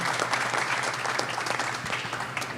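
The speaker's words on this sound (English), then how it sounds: "Clap it up." Audience applause at a live podcast recording, a steady dense clapping from a crowd that stays loud and even throughout, with a faint low hum beneath.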